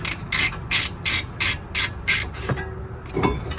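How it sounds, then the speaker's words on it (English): A breaker bar loosening the caliper bracket bolt on a Honda Accord or Civic during a front brake pad and rotor job gives about nine rhythmic bursts of close metallic ratcheting clicks, then a few fainter knocks and clanks. "So I use a breaker bar to break it loose."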